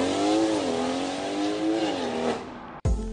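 A tuned BMW X3 M40i SUV engine, Stage 2+ with about 480 wheel horsepower, roars loudly as it accelerates through the revs, pitch rising and falling with gear changes, then cuts off abruptly.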